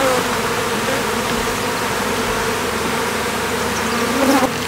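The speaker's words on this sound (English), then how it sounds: "There's quite a few bees in my esky." Honey bees buzz steadily and densely around an open beehive during an inspection, a close continuous hum with no voices.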